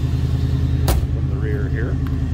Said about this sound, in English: Get that 302 warmed up. We'll come down off that high idle.